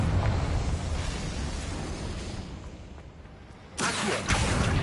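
A Confringo fire-blast spell goes off in Hogwarts Legacy: a broad, roaring blast that rumbles and fades, then a second sharp burst of crackling impact near the end, loud with no talking.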